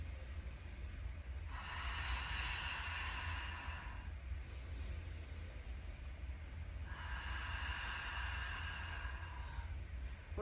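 Slow, steady breaths held in a downward dog yoga pose against a wall, two long airy exhalations close to the ear over a low steady hum, with a quieter pause between them.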